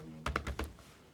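Several quick keystrokes on a computer keyboard while coding a JavaScript loop, a short close burst of about four clicks with no talk.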